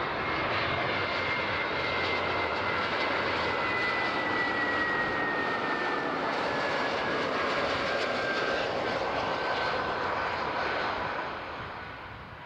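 Swiss airliner landing on runway 14 at Zurich airport, a loud, steady jet engine roar sustained throughout with a slowly falling whine, fading slightly at the end.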